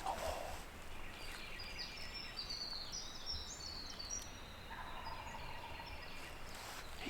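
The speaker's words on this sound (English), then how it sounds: "he's gobbling a lot" A wild turkey gobbles in the distance across a hollow on public land in Alabama, with a few loud, rolling calls rising over a steady outdoor hiss and no talking.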